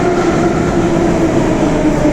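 A metro train rolls into a station with a steady, loud rumble and a faint whining hum, alone and with no voices.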